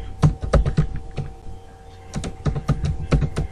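Group name typed on a computer keyboard during Windows Server 2016 setup, two quick flurries of close clacking keystrokes separated by a short pause, alone without talk.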